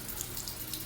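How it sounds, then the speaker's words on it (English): Water runs steadily from a sink tap as the flow and temperature are adjusted before handwashing in a clinical patient assessment, a soft continuous hiss with no talk. "Adjusts the water flow and temperature."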